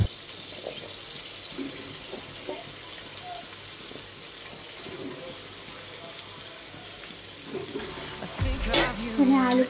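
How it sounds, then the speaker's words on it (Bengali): Potatoes and pointed gourd frying in a pan give a steady, close sizzling hiss, with louder clattering and bubbling near the end. "এখানে আলু পটলটা ভাজবো"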